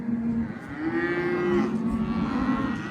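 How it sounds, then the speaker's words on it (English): Cattle mooing in a corral on a Colorado family ranch during a big pasture move, with several overlapping low, sustained moos close by over a continuous herd murmur. "we're just riding through all the cows right now"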